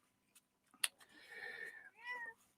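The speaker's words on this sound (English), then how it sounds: "we've got our kitty cat with us here" A pet cat meows twice indoors, close to the microphone: a short sharp cry, then a longer drawn-out meow, with faint background noise and no talking.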